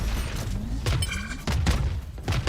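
Rapid missile-barrage explosions from a competitive Valorant match land as a cluster of sharp, close blasts amid dense game noise, with brief voice-like tones between the bursts.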